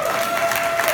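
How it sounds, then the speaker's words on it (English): Audience applause at a peer-leadership conference award presentation, a brief, dense and even burst of clapping from a crowd, fairly loud and unbroken. "Let's also have an amazing round of applause for Janie Marsh and her leadership"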